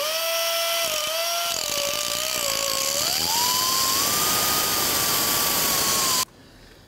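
A loud, continuous high-pitched whine of a power cutting tool grinding through rusted bolt heads on a 2008-2012 Honda Accord's rear catalytic converter, its pitch shifting as it bites, then cutting off abruptly.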